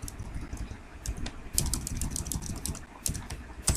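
Quick, irregular keystrokes clatter on a computer keyboard, bursts of clicks with short pauses between them, fairly close and clear with no talking over them.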